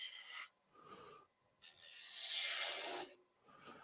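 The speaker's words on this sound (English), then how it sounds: "So maybe we'll continue with the gouge." A thin woodturning gouge cuts a small wooden spinning top on a lathe, giving faint, rasping scrapes in short bursts with one longer, brighter hiss in the middle, close and quiet.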